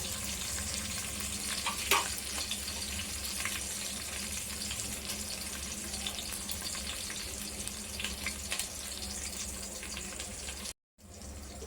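Ingredients for a chicken curry fry in a pan, a constant hissing sizzle with a few scraping stirs, holding steady for about eleven seconds before a brief silent gap.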